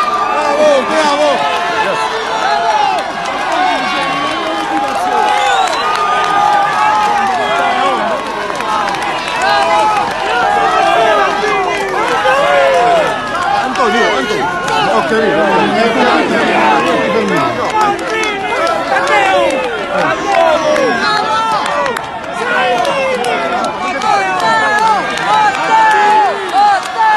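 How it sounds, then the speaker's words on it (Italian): A large crowd greets a politician's arrival at a rally in L'Aquila, cheering and shouting loudly and continuously with dense overlapping voices for almost half a minute. "Un applauso a Biondi"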